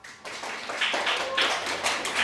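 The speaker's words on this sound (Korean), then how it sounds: "큰 박수 부탁드립니다." Audience applause at a final team presentation in a marketing training course, a steady patter of many hands clapping that rises after a brief quiet start and continues throughout.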